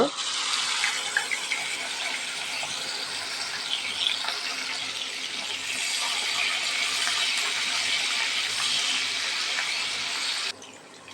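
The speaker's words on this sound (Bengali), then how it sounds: "এখন চিংড়ি মাছগুলা আমি তেলের ভিতরে দিয়ে দেব" Shrimp coated in salt and turmeric go into hot oil for a dish with long beans and potatoes, setting off a steady, close, bright hiss of sizzling that carries on for about ten seconds before easing.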